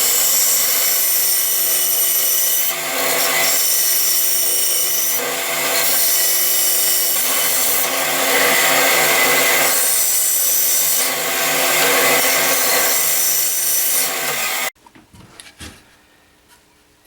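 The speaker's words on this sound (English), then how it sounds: "I'm going to go cut that out on the bandsaw." A bandsaw cuts wood for a dart cabinet with a loud, close, continuous rasping buzz that swells and eases over several passes, then stops abruptly near the end, leaving a few faint knocks.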